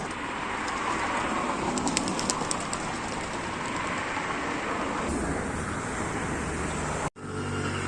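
A flurry of wingbeats and bird calls rises over steady outdoor rumble as a flock of racing pigeons is released and takes off together, with passing traffic noise behind.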